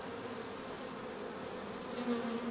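Honey bees swarm inside a hive around their queen and nurse bees, a soft, even buzzing hum that stays faint and continuous throughout.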